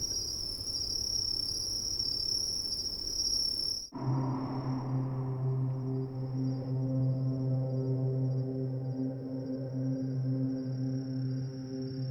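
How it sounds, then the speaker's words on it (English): A cinematic music sample carries dense, shrill cricket chirping that fills the first few seconds, then gives way to soft sustained tones with a faint cricket-like whine lingering over them. "With this one I have lots of cricket sound and a much softer wing."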